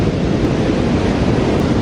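Overhead ocean waves breaking at Chigasaki in typhoon surf, a loud, continuous roar of surf mixed with wind buffeting the microphone, with no voices.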